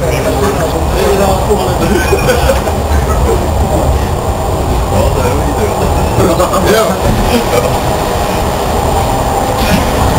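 A passenger train on a Czech line heading toward Velké Zboží runs past with a continuous loud rumble and rattling wheels, steady for the whole stretch, with voices nearby.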